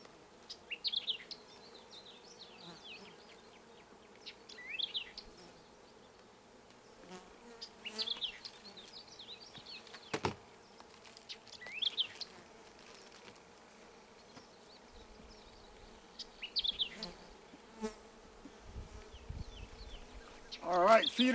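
Honey bees buzz around the microphone in soft, wavering bursts that come and go, with a few faint bird chirps and brief clicks in the background.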